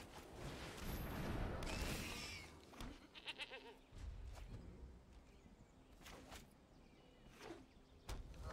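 A goat token in the card game MTG Arena gives several short, nasal bleats in quick succession, fairly clear but set in a quiet game backdrop with a few soft clicks.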